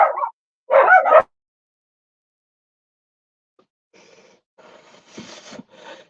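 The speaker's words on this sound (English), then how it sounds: "You gotta love dogs, right?" Dogs bark in two short sharp bursts near the start, then after a pause softer, more distant yips and rustling scuffs follow toward the end.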